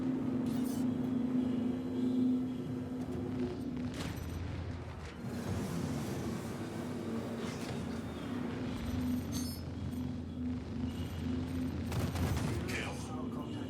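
Enemy NPCs firing at the player in a video game: repeated bursts of gunfire and scattered sharp shots over a steady droning hum, with someone talking intermittently across the long stretch.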